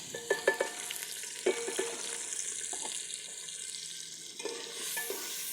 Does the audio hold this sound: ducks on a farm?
no